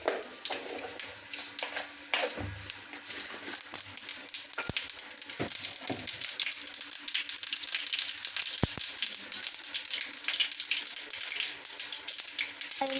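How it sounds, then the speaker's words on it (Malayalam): Mustard seeds sizzle in hot coconut oil, a steady close hiss that runs throughout with a few faint pops and sharp clicks scattered over it, and no talk. "ഞാൻ വെളിച്ചെണ്ണ ചൂടായി വരുമ്പോൾ ഒരിത്തിരി കടുക് ഇട്ട് കൊടുക്കുക."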